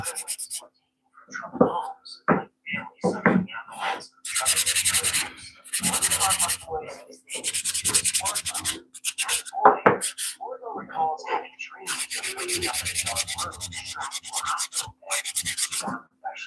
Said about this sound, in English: I don't know if hand sanding will be the best thing for it